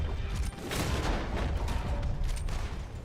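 Several loud sniper rifle shots ring out in Red Dead Online, sharp broadband cracks with rumbling tails spaced about half a second apart over a steady, dense game ambience.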